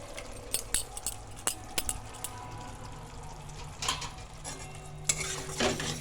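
A spoon stirs cashew-poppy seed paste into bhetki fish masala in a pan, with soft scraping and clinks against the metal over a gentle sizzle, close and moderately loud.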